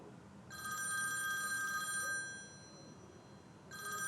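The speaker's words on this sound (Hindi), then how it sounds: "तानिया की कॉल आ रही है" A phone rings for an incoming call, two bursts of a bright electronic ringtone in a quiet room, the first lasting about a second and a half and the second starting near the end.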